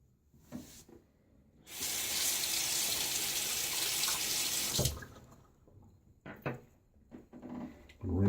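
A bathroom tap runs steadily for about three seconds while a razor is rinsed during a wet shave, with quiet handling clatter before and after the water.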